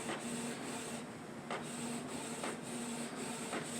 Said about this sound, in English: It's printing.